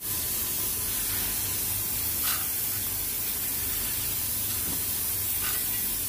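Steady broadband sizzling hiss of tempering spices frying in hot oil, continuous throughout with a couple of brief crackles.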